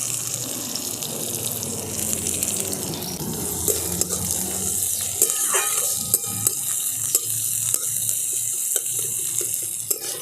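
Chopped onions sizzle as they drop into hot mustard oil already crackling with whole cumin seeds, a steady frying hiss with a few stirring clicks and scrapes close by, no voices.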